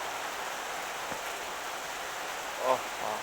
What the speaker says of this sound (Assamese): বৰষুণৰ বতৰ, বৰষুণ পৰি আছে